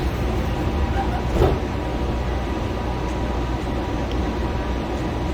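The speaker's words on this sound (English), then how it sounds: "This train is departing." Steady, loud rumble of the DFW Airport Skylink people mover train departing along its track, with a faint brief clunk partway through and no clear speech.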